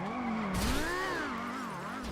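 A car in the RedlineRP driving game holds a steady, wavering engine tone close up while tires briefly squeal and skid, a continuous loud run of about two seconds.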